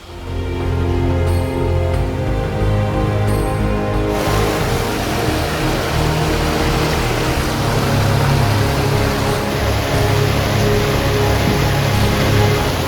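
The swollen Ganga at Haridwar pours over the ghats in the monsoon, a loud, dense and continuous roar of rushing water that begins after a few seconds of quieter ambience and holds steady throughout.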